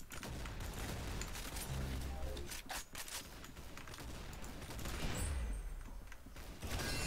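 Shotgun blasts in a Roblox shooter game, a loud burst of rapid gunfire and mechanical clatter up front, with voices talking over the chaotic action.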